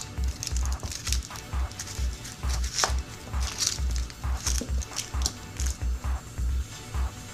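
A cheap knife chops a white onion in quick, steady strokes, each cut landing as a dull thud, close and clear, with no talking.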